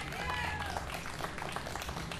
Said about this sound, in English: Round of applause for Nick Davidson back on the drums